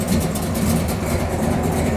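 A Plymouth Road Runner's 440 V8 engine idles steadily, a continuous low rumble with an even mechanical chug, close by and unbroken throughout.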